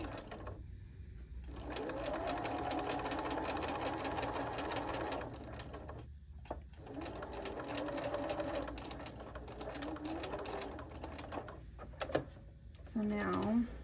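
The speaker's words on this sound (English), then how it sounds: "I'm going to sew over the both of them where they are supposed to meet up" A sewing machine stitches a pillow, running in two long steady bursts of fast, even mechanical chatter, stopping and restarting, with close handling clicks and fabric movement near the end.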